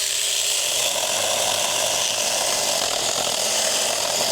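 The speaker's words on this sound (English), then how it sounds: "what I'm gonna do is see how it cuts this log right here" A cordless 21V mini chainsaw cuts through a large log, a continuous loud buzzing whine with gritty cutting noise that stays steady and close throughout, with no talking.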